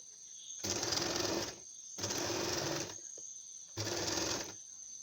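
A household sewing machine stitches seams on a homemade cloth face mask in three short whirring bursts of about a second each, close and steady, with brief quiet pauses between them.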